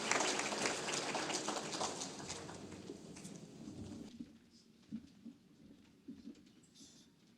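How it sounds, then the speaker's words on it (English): Dense audience applause at an Akron Roundtable gathering honoring the featured speakers, Olympian Butch Reynolds and Ismail Al-Amin, fills the room steadily for about four seconds, then thins out to scattered claps and faint room noise. "Let's have another round of applause for our featured speakers today"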